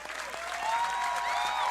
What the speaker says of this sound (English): Crowd is ecstatic.